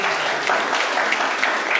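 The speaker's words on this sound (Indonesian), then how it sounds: "Kasih tepuk tangan bagi Tuhan." Congregation clapping in a church service, a dense burst of applause at close range that stays steady and loud throughout the short moment.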